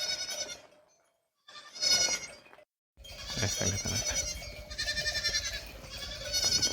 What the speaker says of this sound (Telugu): చూస్తురండి మంచి మేకలు కూడా వస్తున్నాయి